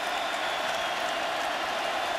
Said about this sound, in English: Crowd getting louder.